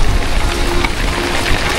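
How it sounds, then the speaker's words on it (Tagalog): Heavy rain pours steadily and close, a loud continuous hiss of drops with low rumbling underneath, no voices present. "Lakas ng ulan."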